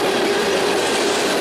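A BNSF-led sand freight train on the Chicago Line passes close by, its steady, loud rolling roar of railcars and wheels filling the whole span without pause, with no one speaking.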